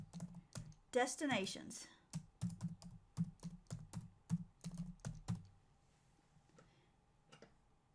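Rapid clicks of fingers typing on a computer keyboard come in a steady run of close, distinct taps for about five seconds; a voice speaks briefly near the start, and then it goes quiet.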